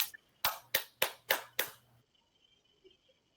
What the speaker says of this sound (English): someone clapping